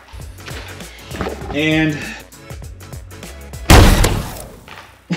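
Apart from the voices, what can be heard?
Nerf gun firing three darts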